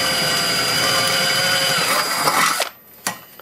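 A power drill bores a 1/4 inch hole through a box, giving a steady, loud, close whine with gritty cutting noise for about two and a half seconds before it stops and a couple of short knocks follow.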